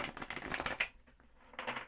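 Guidance cards being shuffled: a quick riffle of papery flutters, then a pause, then a shorter second burst, close and quiet, with no talking.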